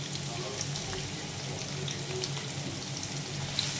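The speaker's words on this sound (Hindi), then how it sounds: "अब अनियन को हमें गोल्डन ब्राउन होने तक फ्राई करना है।" Finely chopped onions frying in oil with cumin, a soft, steady sizzle and crackle at close range, fairly quiet throughout.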